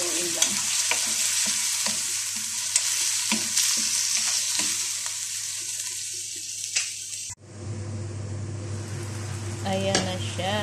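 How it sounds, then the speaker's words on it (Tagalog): Liver adobo frying and being stirred in a pan after salt and black pepper go in, a steady loud sizzle with repeated scraping stirs, then a brief cut to a lower, hissing fry with light clinks. "Lagyan ko na ng salt at black pepper. Ayan, halo-haloin lang."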